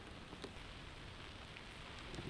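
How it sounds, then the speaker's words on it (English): Steady rain pours down over an outdoor disc golf course during a winter tournament round, a dense, even hiss of drops hitting the ground with no break and no voices. "Rain's really coming down."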